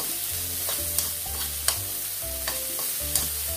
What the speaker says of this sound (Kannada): ಈ ಥರ ಫ್ರೈ ಮಾಡಿ ತುಪ್ಪದಲ್ಲಿ.